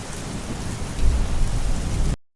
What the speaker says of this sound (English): As God had said, it started to rain.